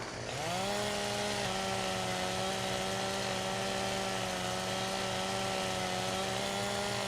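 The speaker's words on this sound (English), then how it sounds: "I'm just going to get in here and cut it with a chainsaw." A chainsaw in Farming Simulator 17 runs continuously while cutting a palm tree, a loud steady buzzing whine that rises in pitch as it spins up, then holds a constant drone with no talking.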